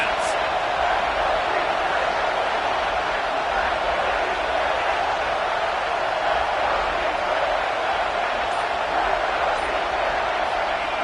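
Football stadium crowd on a third down, a dense, steady roar of cheering and noise filling the whole stretch without letting up, broad and distant-sounding.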